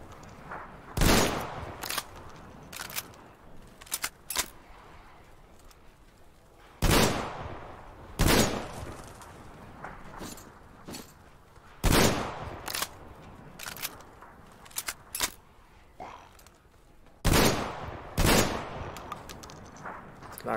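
Sharp, loud weapon shots in Metro Exodus come in spaced clusters of two to four, each a close crack with a quick tail, separated by quiet pauses across the clip.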